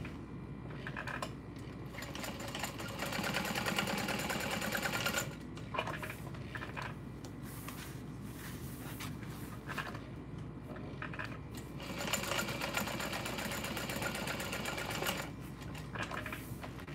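Sewing machine stitching a messenger bag seam, a continuous fast mechanical whir in long runs broken by short pauses as the fabric is turned, close and moderately loud.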